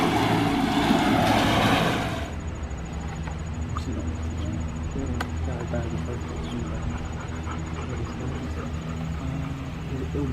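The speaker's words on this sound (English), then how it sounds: "So we're just jetting in with a bigger nozzle to descale all of the cast iron debris" A hydro-jetter blasts water through a cast iron sewer line to descale debris, a loud broadband rushing roar for the first two seconds that drops to a steady, quieter churning hiss with a faint high whine.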